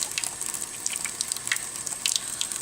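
Tap water runs steadily while hands are rinsed under it, a close, bright splashing hiss with small irregular spatters as the flow breaks over the skin.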